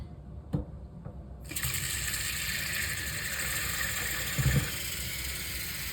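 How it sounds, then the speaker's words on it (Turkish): Tap water pours through a K&N performance air filter from the inside outward. After a couple of faint knocks, the flow switches on and holds as a steady, close rushing hiss, with a brief splashy thump near the end. "Ve böyle içeriden dışarıya doğru su akıtıyorum."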